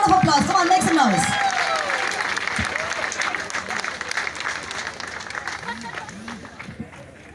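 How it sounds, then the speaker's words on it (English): Crowd applause and cheering for a race winner at the Rotary Rain Run prize distribution, a dense, loud wash of clapping that slowly fades, with voices mixed in. "Give her a round of applause. Come on, make some noise."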